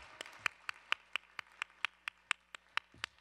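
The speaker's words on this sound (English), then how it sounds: "A big round of applause for them." A few people clap in a slow, even rhythm at an International Women's Day event at the U.N., about a dozen distinct sharp claps spaced roughly a quarter second apart over a quiet background.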